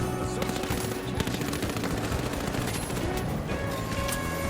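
Gunfire in The Finals crackles in quick, dense bursts, a steady rattle of shots at moderate distance mixed with game ambience and no speech.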